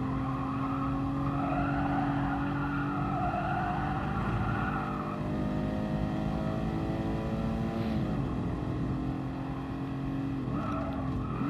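A Mustang racing in the video game Gran Turismo Sport, its engine droning loud and steady with rising and falling pitch sweeps as it shifts through gears.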